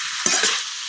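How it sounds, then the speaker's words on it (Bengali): Sponge gourd frying with spices in a pan, heard as a steady close hiss with a single brief stirring scrape, short and fairly loud. "এখন দুন্দুলের সাথে মশলাটা খুব ভালোভাবে মিশাইলাম"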